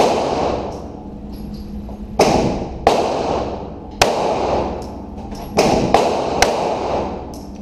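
Pistol shots fired at targets at 20 feet during a headshot drill at a shooting range: about six sharp, loud reports spaced irregularly over several seconds.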